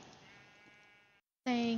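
Sheep bleats from the video game Minecraft, a faint wavering bleat followed after a short gap by a louder, nearer one, with a voice talking over them.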